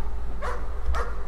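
A dog in the horror game Layers of Fear gives two loud, close barks about half a second apart, clear against a low, steady background hum.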